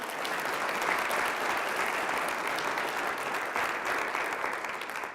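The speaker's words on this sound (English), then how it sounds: "So can we give her a round of applause" Audience applause at a college innovation forum, a steady, even wash of many people clapping throughout, fairly distant and with no talking over it.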